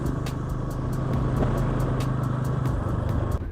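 A Bajaj Pulsar N160 motorcycle cruises along a road with a steady engine drone and constant wind and traffic rumble, with no voices.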